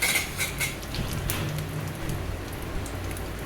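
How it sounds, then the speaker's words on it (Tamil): Mustard seeds and garlic sautéing in a pan for a taro root kuzhambu. A dense, rain-like crackle and sputter runs continuously, with a few sharp pops near the start and no talk. "இந்த கடுகு, பூண்டு எல்லாம் நல்லா வதக்கி அந்த கலர்லாம் சேஞ்ச் ஆகணும்"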